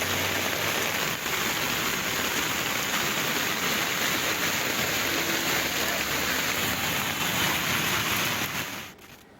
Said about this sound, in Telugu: భాగ్యనగరాన్ని మరోసారి భారీ వర్షం ముంచెత్తింది